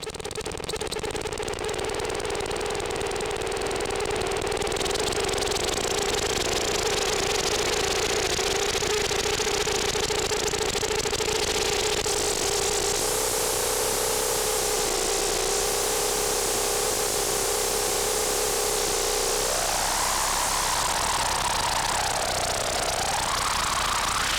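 Dense, steady synthesized noise with sustained tonal drones, loud and continuous throughout, shifting in pitch near the end like a feedback patch.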